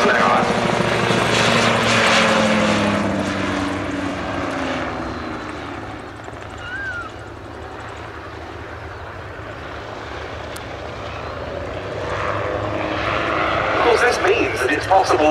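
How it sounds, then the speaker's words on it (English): A Rotorsport UK Calidus gyroplane flies at the Duxford summer airshow, its propeller engine droning steadily as it passes, loudest at the start and end, with a commentator talking over it. "Possible to fly an AutoGyro such as this from an extremely small field."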